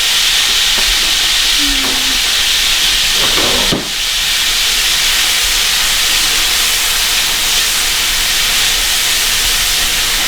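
Tomatoes hitting a hot pan with basil nearby, giving a loud, continuous hiss of steam and sizzle that fills the whole stretch, with a brief clatter of the pan or utensil early on; no speech over it.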